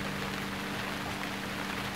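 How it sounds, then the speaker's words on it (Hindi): Soft, steady rainfall patters continuously at low level, an even hiss of drops on surfaces with a faint low hum beneath and no voices. "इसलिए बारिश हो गई।"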